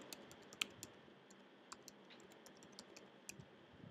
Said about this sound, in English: Right now I'm typing it as we speak.